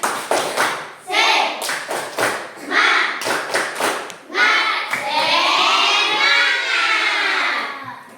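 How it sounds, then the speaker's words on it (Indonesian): A third-grade class of children performs a rhythmic cheer clap during a science lesson: patterned bursts of claps in quick groups, followed by voices chanting loudly together. "mari terlebih dahulu kita tepuk semangat"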